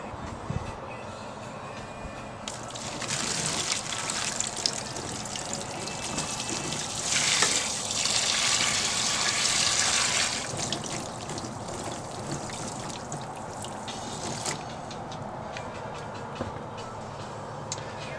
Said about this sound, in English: So just gonna go ahead and add this water right in.